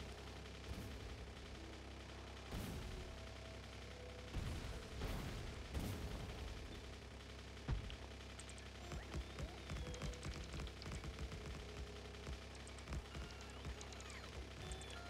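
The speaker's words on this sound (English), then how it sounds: "I'm just using a grenade." Grenades blast trees in the game Factorio, producing several booming explosions in quick succession early on, then scattered sharper crackles and smaller bursts, with no talking over them.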